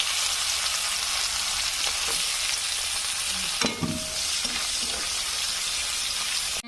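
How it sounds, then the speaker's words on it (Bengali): Chopped onion frying with black cumin and whole cumin seeds in a pan, loud steady sizzle and crackle throughout with a brief stir or clatter midway, no voices. "পেঁয়াজ ভাজা হয়ে গেছে"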